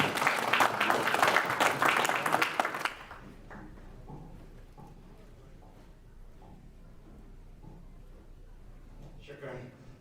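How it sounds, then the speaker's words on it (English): An audience at an entrepreneurship series event gives a loud round of applause for the next speaker that lasts about three seconds, then drops away to a quiet room with faint shuffling. "please welcome with a round of applause our next speaker, Faisal Sohail."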